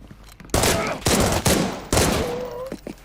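Bursts of automatic gunfire ring out in a tense Arena Breakout: Infinite firefight, several loud volleys about half a second apart with brief pauses between them and excited talk running underneath.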